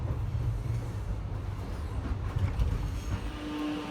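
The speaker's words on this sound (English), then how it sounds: "It does get rough before the train arrives at the station" Suburban passenger train arriving at a station over rough track, a steady close rumble with jolts and a brief squeal toward the end, no speech.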